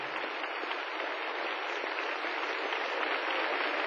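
An opera audience applauds the cast at a curtain call, a steady even patter of clapping heard from a distance, thin and continuous with no voices.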